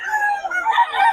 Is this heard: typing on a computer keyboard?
no